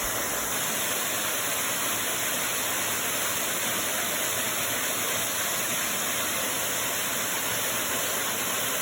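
The Batu Dinding waterfall (Air Terjun Batu Dinding), set far from homes, gives a constant broad rushing roar that stays even and unbroken throughout, with no voices.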